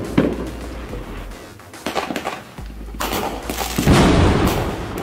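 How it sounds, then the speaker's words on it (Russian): Fireworks explode in a series of sharp booms and crackling bursts over about five seconds, with bigger, louder blasts toward the end, outdoors with no talk. "Салют невероятно хорош."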